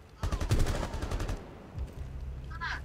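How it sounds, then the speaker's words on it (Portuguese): Rapid gunfire from the video game Rainbow Six Siege crackles in a short burst, then fades, with players talking over it in a noisy room. "O tiro tá sendo um só de cada vez."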